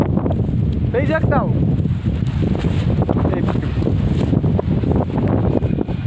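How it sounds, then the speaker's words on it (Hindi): Cold wind blows hard across the microphone outdoors, a steady low buffeting roar, loud and close, with someone speaking briefly under it. "मतलब हवा चल रही बताऊ मैं ठंडी ठंडी"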